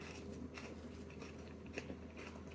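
Soft, quiet chewing of Japanese green onion with cream cheese, close up, with a steady crunch and mastication rhythm and no talking.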